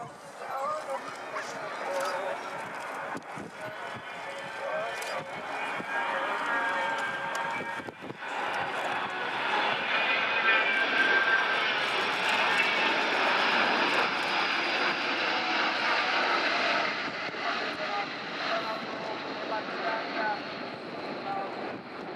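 A Spanish aerobatic team's jets make their final pass at the Royal International Air Tattoo, their distant roar swelling into a loud, sustained rush that holds steady and then slowly fades.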